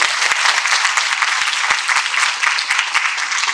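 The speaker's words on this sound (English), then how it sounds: "Give them a round of applause" Audience at a panel discussion applauding the panelists, a bright, full burst of dense clapping that holds steady for several seconds, close and loud, with no talk over it.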